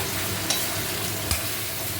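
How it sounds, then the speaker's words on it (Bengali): Oil sizzles steadily as water spinach fries in a pan, with two soft clicks of a spoon stirring against the metal. "দেখো ভাজা ভাজা হয়ে যাচ্ছে, কোনো জল নেই, একদম নরম হয়ে গেছে"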